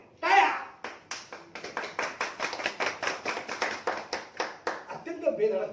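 Office staff at a bank applaud to welcome a returning colleague, a burst of steady rhythmic clapping from a small group that runs several seconds, with a loud voice at the start and murmurs at the end.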